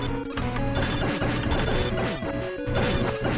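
Moles shattering in the Mega Man fangame Hard Hat 2, heard as crunchy smash hits repeating over busy chiptune music, steady and fairly quiet throughout.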